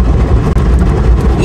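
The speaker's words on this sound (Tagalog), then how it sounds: "Nasa loob po ako ng makina ng car wash." An automatic car wash machine runs around a car, heard from inside the cabin as a loud, continuous low rumble and whir that stays even with one brief dip.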